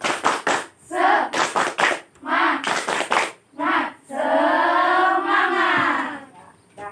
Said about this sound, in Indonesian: Coba semangatnya kita tepuk semangat bareng-bareng ya